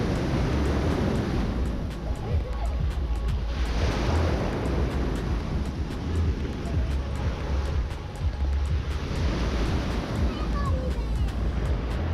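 Waves wash onto a small marble-pebble beach on Thassos in steady, fairly close surges, with broadband wind noise buffeting the microphone throughout and no talk.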